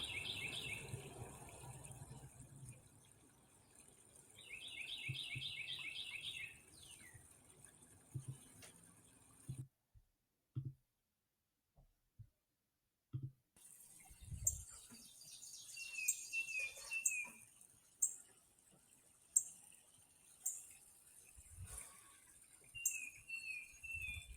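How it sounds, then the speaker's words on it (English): Faint bird calls and repeated chirps outdoors, with short trilling phrases, a brief quiet gap, then scattered tweets against soft background. "the bird sounds that you'll hear were captured with the Merlin Bird app"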